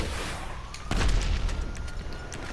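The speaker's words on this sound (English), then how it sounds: "stop shooting at me" A single heavy gunshot boom in GTA 5 Online cuts through a noisy game background, followed by a brief rattle of lighter clatter.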